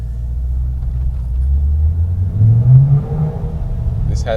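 A C8 Corvette with a dual-clutch transmission revs in neutral: a low, loud engine rumble climbs steadily in pitch, peaks, then eases back, heard close up.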